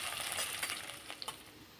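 Ingredients being stirred and browned in a frying pan give a soft, continuous sizzle with a few faint scraping ticks, quiet and brief.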